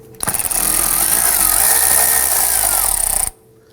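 A cordless power tool, likely an impact driver, spins loose and removes 10mm nuts from the metal strut shield inside the front wheel well of a 2001-2009 Volvo S60, one continuous loud whirring run of about three seconds, close by, with no talk.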